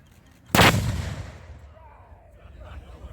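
A historic cannon fires at a Fourth of July celebration at a fort, one sudden loud boom followed by a long rumbling decay and faint crowd noise.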